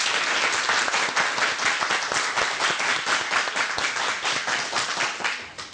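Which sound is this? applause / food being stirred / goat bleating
applause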